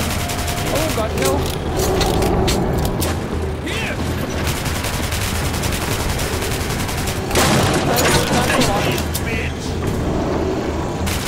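Gunfire in the shooter Metro: Last Light Redux, dense loud bursts of shots over a rumbling vehicle-like drone, with frantic shouting voices mixed in.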